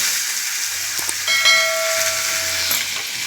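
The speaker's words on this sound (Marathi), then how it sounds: "त्यात कांदा टाकते" Chopped onion tipped into hot oil in a pressure cooker on a gas stove, giving a steady close sizzling hiss with a brief clatter as the pieces land.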